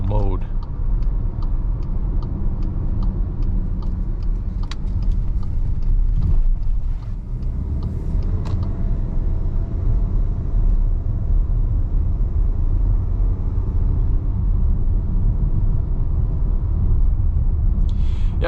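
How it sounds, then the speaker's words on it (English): A 2024 VW Atlas SE SUV accelerates uphill in eco mode, its engine a low, steady rumble heard from inside the cabin, with a few clicks and bumps on top. "we're gonna put it into eco mode and see how it accelerates up this hill in that eco mode"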